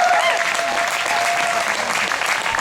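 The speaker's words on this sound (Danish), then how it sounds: "Det synes jeg altså kræver et stort bifald." Loud, close audience applause at the Nyborg Kampdage 2016 event, brisk and sustained throughout, with a voice talking over the clapping and a faint tone holding steady underneath.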